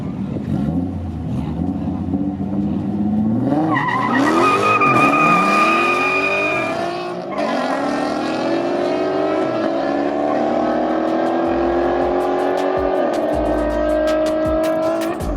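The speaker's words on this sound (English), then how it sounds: "The first race, we had a 370Z against a Scatpack Charger." Drag race between a Nissan 370Z and a Dodge Charger Scat Pack: engines roar and climb through rising gear pulls with tire squeal, loud and close at first, then fading off into the distance.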